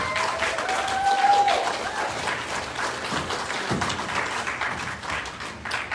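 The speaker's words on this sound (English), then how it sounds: "Please, please give a rounding applause and welcome Tina Pullman." A crowd at an outdoor pro-choice rally in Reedsburg applauds, a steady wash of clapping with a few whoops and cheers over several seconds.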